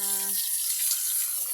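Water running and splashing from a tap or hose as pigs are doused to cool them on a hot midday, a steady near wash of water; at the start a voice is heard briefly over it.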